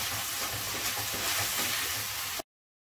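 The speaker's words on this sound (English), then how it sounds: "I've been frying this onion for almost 12 to 15 minutes on high flame." Chopped onion frying in hot oil over a high flame while cooking chicken tikka masala: a steady, close, dense sizzle and crackle that runs unbroken, then stops abruptly, with no voices.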